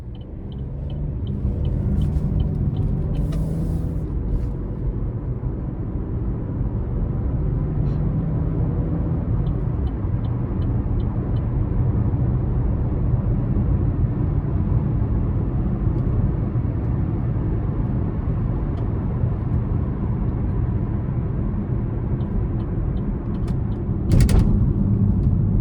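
A 2026 Chevy Trax with a 1.2-litre turbo three-cylinder and six-speed automatic accelerates, its engine drone steady and loud from inside the cabin, with a brief sharper burst near the end.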